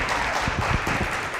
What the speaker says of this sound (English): Let's give my husband a round of applause